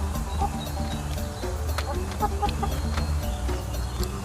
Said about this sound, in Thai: นี่เราอยู่ข้างคอกไก่ นี่ไงไก่ในตะกร้านี่ไง